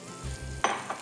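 Prawns drop into a hot pan of salted butter and burst into a short, bright sizzle that swells and then settles, close up and alone after a moment of quieter pan noise.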